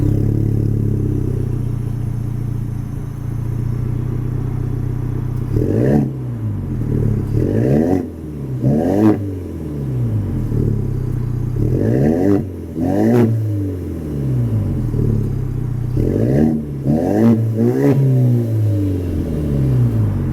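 2022 Ford Ranger Lariat with the Tremor off-road package and a custom Borla exhaust, idling with a deep rumble and then revving in repeated loud bursts that rise and fall, close up with no talking.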